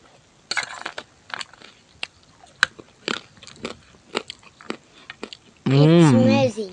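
Someone eats sausage up close during a mukbang, making a string of crisp, crunchy bites and wet chewing clicks at an uneven pace, followed by a brief burst of talking at the end.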